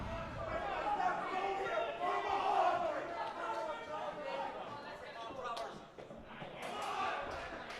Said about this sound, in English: This Offaly crowd are loud.